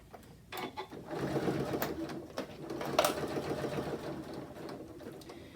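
A Janome S9 sewing machine stitches through several layers of cork in a steady mechanical whir with rapid needle clatter, starting after a brief pause and running continuously at close range without voices.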